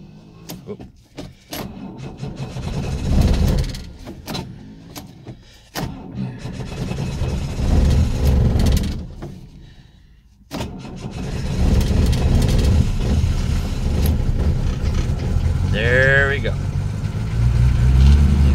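A 1967 Mercedes W110 200D diesel idles steadily while warming up from a bone-cold start at about 30 degrees. It is a continuous, mid-pitched engine rumble, close by, with a voice speaking over parts of it.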